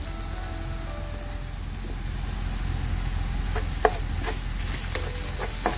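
Onions frying in hot oil with ground spice powder for a beef biryani, a steady sizzle and crackle with scraping spoon strokes as the pan is stirred, close and continuous, with no talk.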